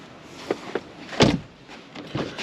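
A door latch clicks on a 2007 Cadillac CTS, with a few soft mechanical clicks and then a sharper clunk as the door opens, close and brief, with no talk.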